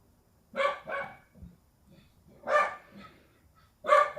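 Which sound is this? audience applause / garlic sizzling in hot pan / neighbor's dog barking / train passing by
neighbor's dog barking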